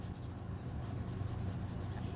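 A drawing tool scratches steadily across paper while a dragon drawing is coloured in by hand, in soft, rapid, close strokes with brief pauses, quiet and alone.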